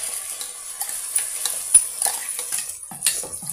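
Ground tomato paste going into a hot pan of oil while making egg biryani, with a soft sizzle and scraping, clinking stirring strokes of a utensil against the pan, close and steady.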